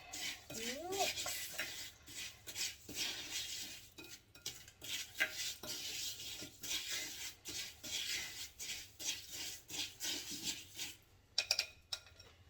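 Salt scrub with jasmine and sage oil being stirred by hand in a bowl, a steady run of gritty scraping and clinking strokes at close range, with a few sharper taps near the end.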